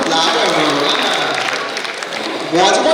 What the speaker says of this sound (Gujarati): અને તાળીથી વધારતા રહો